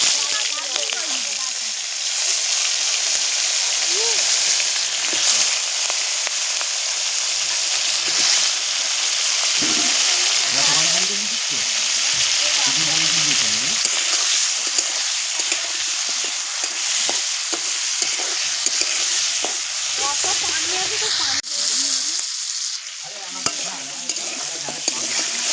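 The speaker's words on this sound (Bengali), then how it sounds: "তেল গরম হয়ে গেছে, এবারে মাছগুলো আমি একে একে ছেড়ে দেবো।" Large golda prawns frying in hot oil in a pan, a steady loud sizzle and crackle running throughout with occasional stirring scrapes and faint speech beneath.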